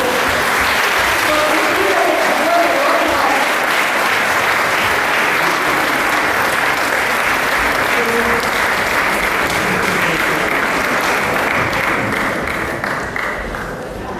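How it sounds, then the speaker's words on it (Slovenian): Audience applause at a kindergarten children's singing performance, a dense, loud, continuous clapping that holds steady for about fourteen seconds and tapers slightly near the end. "malo zaploskajmo"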